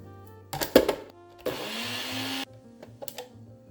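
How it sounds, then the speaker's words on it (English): A blender grinds granulated sugar or sweetener into powdered sugar, roaring loudly in one continuous burst of about a second, with short clatters and knocks of handling before and after. "put it into your blender"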